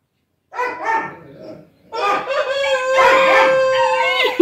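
At a home yard with cats, dogs and chickens, a couple of short barks sound close by, followed after a pause by a long, loud, drawn-out rooster crow that carries to the end.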